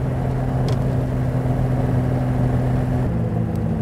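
A 1936 Riley Kestrel 15/6 engine idling steadily after starting, a low even rumble with a slight change in pitch near the end.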